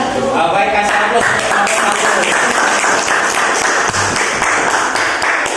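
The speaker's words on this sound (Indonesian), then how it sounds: "Baik, kasih aplaus." Classroom audience applauding after a group presentation during a teaching practice session, a loud sustained burst of many hands clapping with sharp individual claps standing out, continuing steadily throughout.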